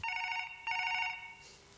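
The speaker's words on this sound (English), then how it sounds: "Aren't you going to answer the phone? No, let it ring." A telephone rings twice in quick succession, each burst a bright, trilling electronic bell tone, fairly faint and heard alone without any voices.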